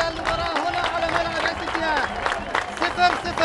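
A football stadium crowd after the final whistle of a goalless match, heard as steady applause and cheering babble throughout, with an announcer's voice talking over it.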